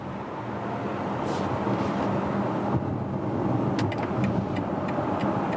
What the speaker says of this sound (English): I'm putting it to the Max eDrive mode, acceleration from 40 kilometers to, let's see, all electric